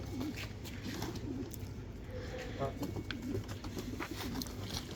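Soft, low pigeon coos repeat in short phrases against steady background noise, with faint chirps now and then.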